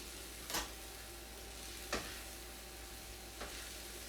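Quiet, steady sizzling of food frying in a pan, with three soft scraping knocks spaced evenly apart, like a utensil stirring.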